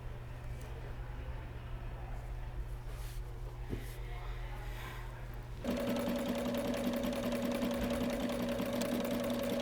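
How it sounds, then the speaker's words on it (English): A sewing machine stitching a hem on canvas for a car seat cover, first a low motor hum, then a loud, fast, steady mechanical chatter of the needle running close by. "I folded and sewed the same large hem on the bottom for the tunnel"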